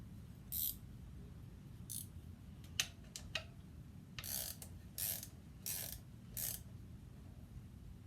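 A 5/16 inch wrench ratchets while tightening clutch hardware on a Harley-Davidson M8 engine, giving quiet, close clicks in short irregular bursts with pauses between them.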